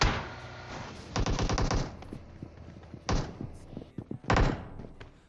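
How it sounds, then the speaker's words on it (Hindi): Gunfire from the battle royale video game PUBG, several loud bursts of rapid automatic shots with heavy thuds and slams between them, dense and close. "दबा के गोलियां चला रहे होते हैं ये लोग"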